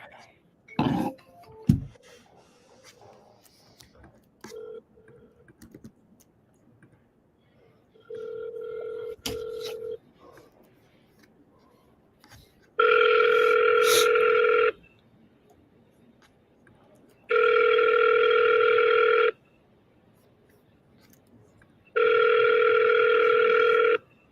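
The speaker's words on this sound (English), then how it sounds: "All right, Karen, let's answer the phone." A telephone rings in three long, loud, evenly spaced bursts on an outgoing call, preceded by a few clicks and a short tone.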